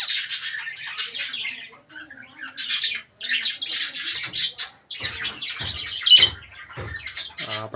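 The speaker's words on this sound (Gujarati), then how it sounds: "અને આ આપણો ફિન્સ એટલે કે કાબરો" A pet finch calls from its cage in a stream of close, bright, repeated chirps and squawks with short pauses between bursts; no one speaks.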